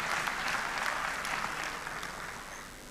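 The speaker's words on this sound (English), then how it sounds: "You didn't clap for the lady." Steady crowd applause at a Dangote Cement annual general meeting, a broad even patter of many hands from a large audience that gradually tapers toward the end.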